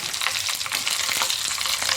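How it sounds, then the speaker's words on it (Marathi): Chilies crackle and spit in hot oil, a busy, close sizzle full of rapid little pops, steady throughout without talk. "छान अशी तडतडू द्यायची आपल्याला मिरची, बघू शकता तुम्ही"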